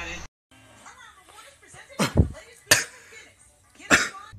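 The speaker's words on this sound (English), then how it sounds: "That's a smoker's cough." A person coughs hard several times after vaping, with three loud, harsh bursts spaced apart and voices and murmuring in between.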